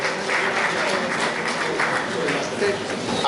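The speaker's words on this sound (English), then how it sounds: "Please, can we once again give the national chairman a round of applause?" A round of applause for a national chairman at a zonal delegates conference, dense steady clapping from a crowd throughout with faint voices underneath.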